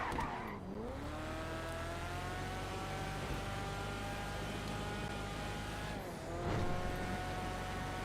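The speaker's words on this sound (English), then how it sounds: "It's a pretty decent tuner car right here." Tuner car engine in GTA 5 Online, driving steadily at a sustained drone, with rising and falling revs around shifts, one near the start and another near the end, and tires faintly squealing.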